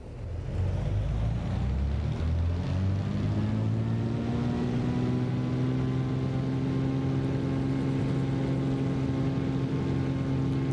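A Cessna Stationair's single piston engine in Microsoft Flight Simulator 2024 revs up from a low start into a steady, loud, droning hum with a strong tonal whine that holds for about ten seconds, no talking.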